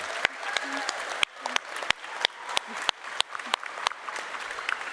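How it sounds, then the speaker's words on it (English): Scattered applause from a modest crowd, sharp individual claps ringing out over murmuring voices, steady for the whole stretch. "give them a round of applause"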